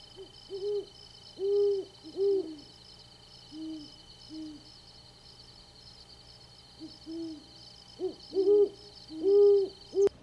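A great horned owl hoots in a wild Arizona setting, giving a series of deep, soft hoots in rhythmic groups, near and clear against a quiet background with faint insect trilling.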